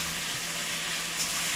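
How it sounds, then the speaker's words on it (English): A pot of vegetable broth simmers on the stove, giving a steady, close, even hiss of bubbling with no talking over it. "We're going to let this simmer."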